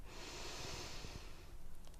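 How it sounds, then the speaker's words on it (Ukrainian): A slow, deep inhale drawn through the nose during a Kundalini yoga breathing exercise, a soft steady airy rush lasting over a second, close and quiet, then fading. "робимо глибокий вдих через ніс."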